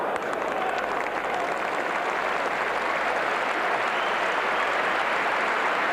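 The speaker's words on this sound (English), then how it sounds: "A great roar goes round the crowd." A big rugby league cup semi-final crowd, Wigan against Bradford, sends up a broad, sustained roar that holds steady and loud for the whole stretch, with no pause or break.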